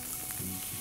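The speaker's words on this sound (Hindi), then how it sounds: "अब मैं इसमें ऐड करूंगी ये चॉप्ड किया हुआ टमाटर" Chopped tomato drops into hot oil in a kadai for restaurant-style kadai mushroom, giving a brief, steady, close sizzling hiss.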